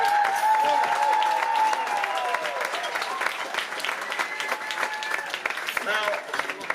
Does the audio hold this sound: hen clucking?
no